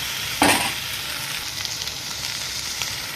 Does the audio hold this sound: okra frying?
yes